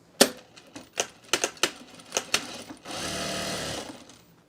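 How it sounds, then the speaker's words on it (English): Several sharp mechanical clicks and knocks come first, then a sewing machine runs in a fast, steady buzzing burst, close by, stitching scrap fabric mulch mats. "We get to really lay into the sewing machine today."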